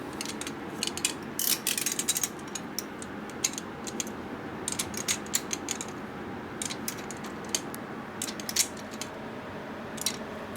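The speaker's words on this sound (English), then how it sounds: "I'm gonna have to use a snap-on flex drive with a torque adapter to" Ratcheting clicks from a Snap-on flex drive with a torque adapter tightening bolts on a 1979 93ci Harley shovelhead engine, a steady run of close metallic clicks in irregular bursts with no talk.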